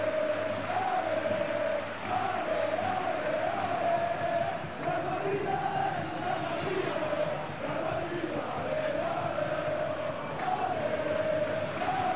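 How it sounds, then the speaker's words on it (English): A football stadium crowd at a Champions League match between Real Madrid and Bayern Munich applauds and murmurs in a broad, sustained roar that holds steady throughout, with a commentator's voice faintly over it. "at least the crowd are appreciative of his efforts"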